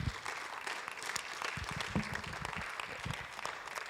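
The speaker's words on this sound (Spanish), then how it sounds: "Dele un fuerte aplauso al Señor." Strong applause from a church congregation rises in a steady, dense patter of many clapping hands, fairly close and continuous throughout, with no voices over it.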